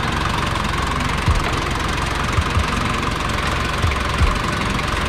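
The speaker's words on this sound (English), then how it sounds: "papalinig namin sa inyo yung engine" A stock Toyota Land Cruiser 70 engine idles steadily and close, a dense even rumble with faint knocking beats throughout and no talk.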